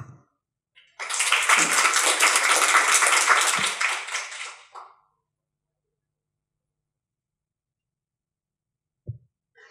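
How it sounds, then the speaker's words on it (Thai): Seminar audience applauding to welcome the speaker at a talk on the Thai pharmaceutical industry after COVID, a dense burst of clapping lasting several seconds, then silence with a faint knock near the end. "ขออนุญาตปรบมือต้อนรับ วิทยากรของเราค่ะ"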